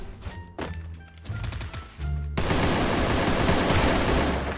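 Rapid automatic gunfire in the video game Garena Free Fire, bursts of close shots that give way to a dense, continuous roar of firing.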